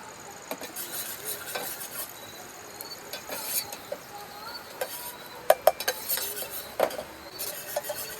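Food is stirred in a thin camping cooking pot, with repeated scraping and light metallic clinks of a utensil and a faint sizzle outdoors, close and steady with a few sharper taps.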